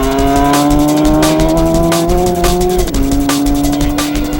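A racing motorcycle tears across the desert at high speed, its engine holding a loud, steady high-pitched drone that drops in pitch near the end, close and with no talk.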